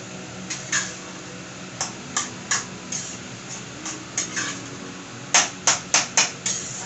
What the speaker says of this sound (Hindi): मैं सब्जी को पड़े की सहायता से अच्छी तरीके से भून रही हूँ और साथ ही साथ सार्थक से बातें भी कर रही हू